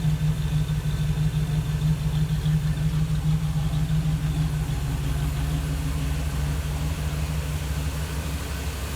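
A 1979 Camaro idles through a mono muffler, a steady close low rumble with an even pulsing beat that holds unchanged throughout.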